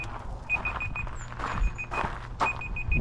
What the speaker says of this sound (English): that's my alarm that it's been an extra hour